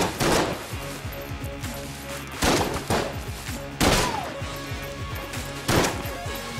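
Shots from a sawn-off shotgun in the video game Enter the Gungeon, several sharp loud bursts spaced about a second apart over layered game sounds and music.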